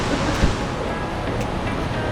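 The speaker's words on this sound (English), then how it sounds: "that water raging down there is the canyon" Water rages down a canyon in the Blue Mountains, heard from above as a constant broad rushing roar with some wind buffeting the microphone.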